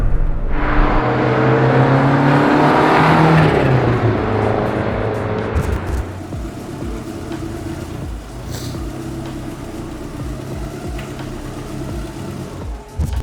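A 1989 Lancia Delta Integrale 16V rally car with its muffler removed, its engine revving loud and close for several seconds before settling into a lower, steady rumble.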